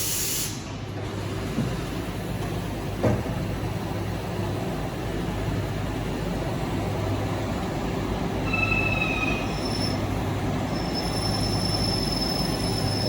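A combination lathe and mill drills a hole in metal, giving a steady motor hum and grind with short high-pitched squeals of the bit partway through.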